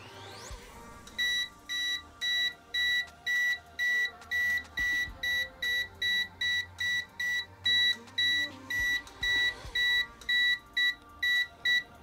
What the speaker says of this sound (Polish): Przy około 15 cm zapala się czerwona dioda, wysoki sygnał, a dalej niski.